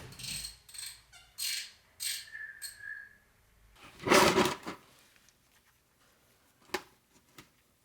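Ratchet with a 15 mm socket loosening the oil drain plug on a Ford Bronco Sport Badlands, heard as short bursts of clicking early on, a louder clattering rush midway, then a few faint isolated ticks.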